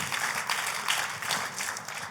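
Church congregation applauding during a worship service, steady dense clapping from many hands at moderate distance, continuous with slight swells and no voices on top.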